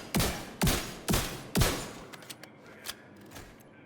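Four heavy shotgun blasts in The Division 2 boom at an even pace about half a second apart, each with a short decaying tail, followed by a few quieter scattered shots and clicks.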